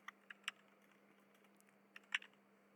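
Scattered keystrokes tap on a computer keyboard while writing SQL code, a few sparse, quiet clicks in irregular bursts against a faint steady hum, with no voice.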